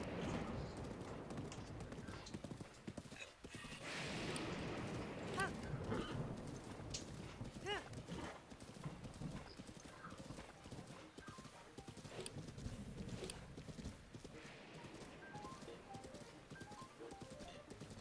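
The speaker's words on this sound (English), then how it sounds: "A goblin was riding that horse." Clip-clop of horse hooves with occasional neighing from the video game Breath of the Wild, a goblin-ridden horse, steady and fairly loud throughout with game ambience beneath.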